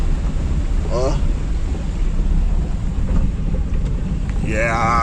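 Floodwater rushes through a street during heavy rain in Vitória da Conquista after a drain cover burst open, a loud constant roar with wind buffeting the microphone and brief speech.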